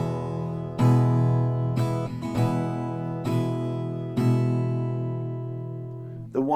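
An acoustic guitar strummed with ringing chords struck on the main beats, five or six clear strums that sustain and decay between hits, played alone without talking.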